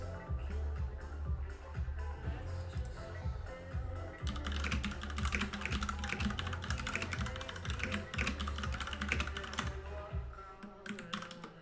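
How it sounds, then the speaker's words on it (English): Steady, rapid clatter of keys on a computer keyboard during a live stream, typing in quick bursts with close, continuous clicking and no talk. "Sorry for the typing on my keyboard."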